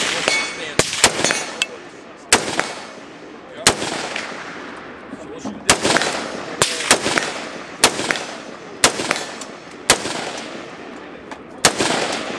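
Sharp, loud rifle shots from a .308 rifle at an outdoor gun shoot, fired one after another at a steady pace, each with a booming report and a ringing echo trailing off between shots.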